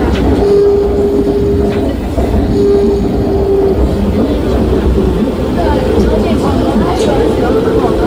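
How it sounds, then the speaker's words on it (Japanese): Airport rail line train running toward Taipei, a continuous loud rumble with rail clatter and steady tones throughout, with voices murmuring underneath. "空港から台北に行く電車なんですけどね"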